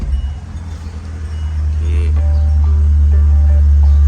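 A TATA CNG vehicle with a faulty throttle body drones as a low, steady engine rumble. It swells a little under throttle but never climbs into a real rev, with a few faint tonal beeps near the end.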